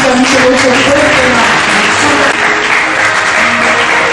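A church congregation bursts into loud, sustained applause during a sermon, a dense wash of clapping that fills the room, with cheering voices mixed in.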